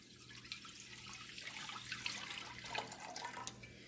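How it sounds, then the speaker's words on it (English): Homemade chicken stock is poured steadily from a container into a pot, making a soft, continuous liquid splash and gurgle that stays faint and close for a few seconds, with no talking. "So I'm going to pour in my chicken stock."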